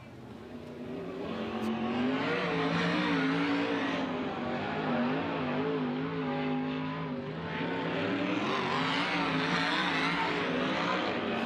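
High Limit sprint race cars roar around Kings Speedway, engines droning loud and steady with rising and falling pitch as they pass and accelerate, a continuous wall of motor noise.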